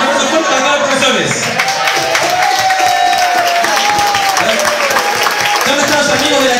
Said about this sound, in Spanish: Un aplauso fuerte para todos los profesores.